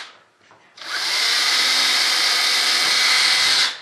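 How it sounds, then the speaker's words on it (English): A power drill whirs loudly and steadily for about three seconds while drilling holes in an RC jet model build after a brief quiet start, then cuts off. "you just drill them holes out."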